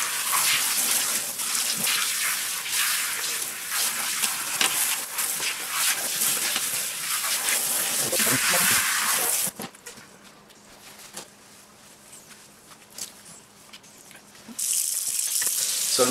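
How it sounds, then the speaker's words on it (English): Tap water runs steadily into a sink or tub while hair dye is rinsed out, a loud continuous gush that drops to a quieter trickle partway through before surging back at full flow. "the water in the sink or the tub, whichever, runs clear"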